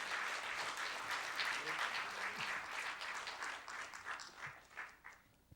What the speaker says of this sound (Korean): 등단할 때 여러분들 큰 박수로 맞이해 주시면 감사하겠습니다